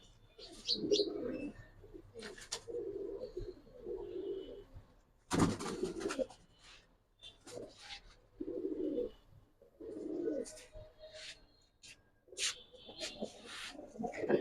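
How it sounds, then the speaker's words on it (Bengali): Pigeons coo in repeated low, throaty bursts, including a silver pigeon, with intermittent chirps and a sharp clatter partway through, fairly close. "এই হলো আরেকটা কবুতর সারা শরীর লেগা সিলভার কবুতর"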